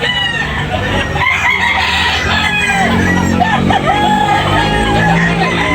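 Roosters at a chicken sale in Tabunok, Talisay crow loudly and repeatedly, overlapping with clucking fowl close by, while people talk in the background throughout.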